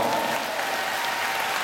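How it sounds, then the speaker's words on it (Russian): An audience on stage at a motivational event applauds to welcome a speaker, a dense, steady wash of clapping from many hands, fairly loud and continuous throughout. "Встречайте аплодисментами очаровательная Анна Хохлова"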